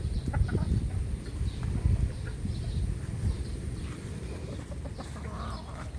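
Backyard chickens being fed, hens clucking in a continuous low chatter with scattered squawks, fairly close and steady throughout with no talking.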